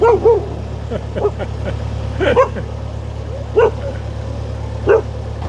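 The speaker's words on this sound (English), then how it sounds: "What are you barking at? Now you've started the other dogs off, Ernie." Several dogs bark at a distance at a canal marina, single yaps spaced a second or so apart over a steady low engine hum.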